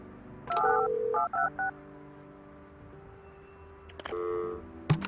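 Touch-tone dialing beeps play when a telephone line is installed in the building-management game Project Highrise, a quick run of clear tones followed by a steady hum and another short burst of beeps.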